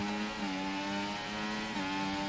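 A race car engine in the F1 24 video game holds a steady, loud, high whine with a slight dip and recovery in pitch partway through, droning continuously with no talk over it.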